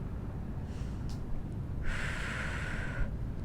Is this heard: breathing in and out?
yes